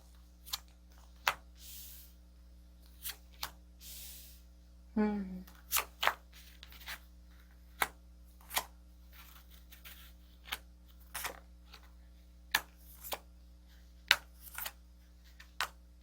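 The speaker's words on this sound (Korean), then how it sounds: "그러면 좀 정확하게 카드를 조금 더 뽑아보도록 할게요" Tarot cards are shuffled and drawn, giving soft brushing and a run of sharp, sparse card snaps and flicks spaced out over a quiet room hum, close by, with a short voiced moment partway through.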